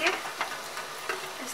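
Arvi leaf and besan rolls frying in oil in a wok, a soft continuous sizzle broken by a few brief scraping stirs, fairly close and moderately quiet.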